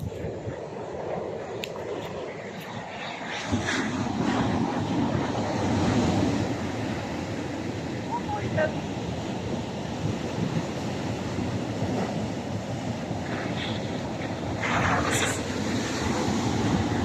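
Steady wash of sea surf at a beach, broadband and continuous throughout, with gusts of wind noise on the microphone and a few faint voices calling in the background.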